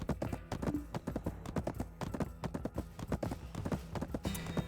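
Hooves of a tier-five horse clip-clop in a rapid, steady rhythm in a video game, loud and close throughout.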